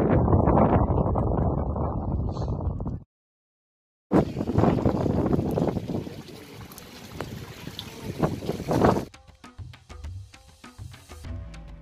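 Strong wind on top of Jabal al Qarah mountain in Al Ahsa, Saudi Arabia, buffets the microphone in loud, rumbling gusts, broken by a short silence and then continuing with weaker, gusty noise.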